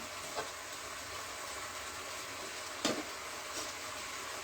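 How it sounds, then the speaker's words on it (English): Eggplant and yam steam together in a pan, a steady soft hiss and sizzle with a few faint clicks and knocks, no voices. "I'm gonna leave that to steam together for now"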